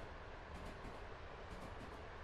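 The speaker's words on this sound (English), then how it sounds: "That was train." A train passes through a Katowice Zawodzie rail layout in the SimRail simulator, a continuous broadband rumble with faint rhythmic clatter throughout, steady and fairly distant with no voices.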